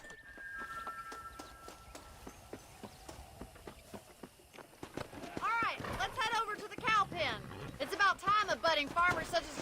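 Horse hooves clop in the video game Red Dead Redemption, sparse single steps at first, then a quicker, denser trot of clip-clops, heard beneath people talking over the later part.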